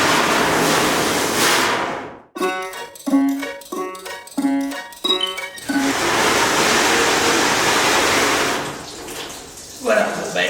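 Rushing water pours heavily for a thorough rinse after descaling, a loud, steady broadband gush that stops while someone talks, then surges back and fades out.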